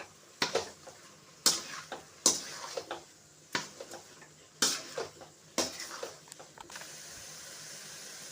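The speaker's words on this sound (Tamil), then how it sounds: "நல்லா கிண்டி விட்டுக்கலாம்." Fried soya chunks being stirred into gravy in a cooking pan, with several sharp spoon-on-metal scrapes and clinks in irregular bursts, loud and close, then settling into a steady low hiss of simmering.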